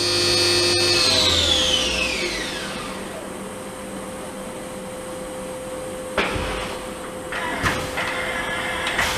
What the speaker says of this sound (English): that's a side mount 20 tool capacity tool changer. Finding the tool.